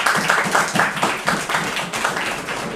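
An audience at a college ceremony in Multan claps in a steady, rhythmic burst of applause, close and lively throughout.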